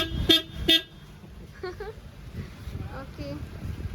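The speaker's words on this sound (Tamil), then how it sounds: "ஹாரன் அடிக்கணும்." Two short, loud car horn honks in quick succession from a new Maruti Eeco van, then voices talking over low road and engine noise.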